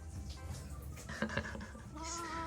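A house cat meows a few times at close range, short, fairly faint calls over a low background hum, early in the morning beside a WMF Perfection 660 automatic coffee machine.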